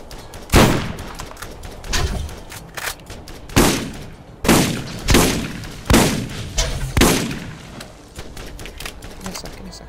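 Heavy gunfire from the video game Borderlands, a run of loud, sharp bursts roughly every second or so, each decaying quickly, with shots clustered and fairly close.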